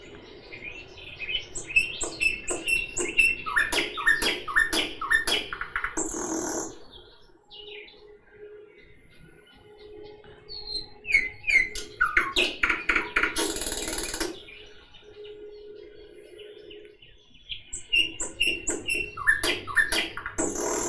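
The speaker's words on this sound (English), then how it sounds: "Let's check out the sound of a bird." Bright, repeated bird chirps and trills in bursts, fairly close and clear, with short quiet gaps between phrases and no talking.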